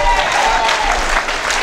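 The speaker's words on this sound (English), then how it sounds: "Y'all know y'all better clap for grandmamas." A church congregation claps for grandmothers, a broad continuous applause with a low rumble beneath, loud and close, with voices mixed into the crowd noise.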